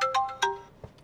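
A mobile phone ringtone for an incoming call rings out inside a modified Maruti Suzuki Brezza: a short, bright melodic run of tones, clear and close, then a soft thump as it stops.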